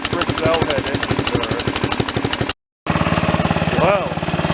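An old Briggs and Stratton small engine runs steadily, a loud rhythmic chugging with fast regular firing pulses, interrupted briefly by a short gap, with a voice speaking over it.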